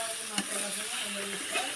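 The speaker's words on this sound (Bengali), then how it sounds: "আমি এখন চামড়িটা ভালোভাবে ভেজে নেব" Chicken skin fries with garam masala in a pan, a steady close sizzle with a soft scrape of stirring partway through, heard alone.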